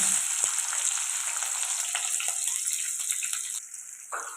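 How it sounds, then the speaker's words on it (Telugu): Cumin seeds with chopped onions and green chillies fry in a pan for an eggplant dal, giving a steady, close sizzle throughout with a few small stirring knocks, then easing off near the end. "జీలకర్ర జీలకర్ర వే ఫ్రై అవుతుంది కదండి కట్ చేసి పెట్టుకున్న ఉల్లిపాయలు పచ్చిమిర్చి అయితే వేసుకుంది"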